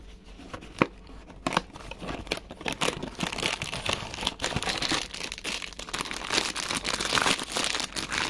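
Plastic wrapping on a Disney goodie package crinkles and rustles as it is opened by hand, close and busy, with several sharper crackles and tears over a steady rustle and no speech.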